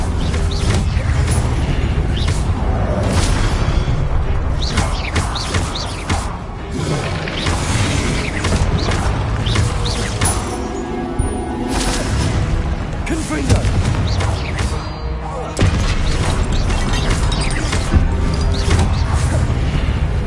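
Confringo blasting spell in Hogwarts Legacy bursting into a dense, continuous barrage of booming impacts, crashes and crumbling debris, loud and sustained throughout with a busy game soundtrack underneath.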